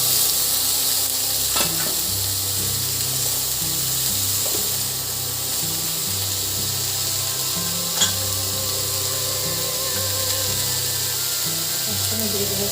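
Pumpkin pieces frying in a pan for a Bengali pumpkin curry, a continuous close sizzle with occasional scraping and clinks of a utensil, no voices.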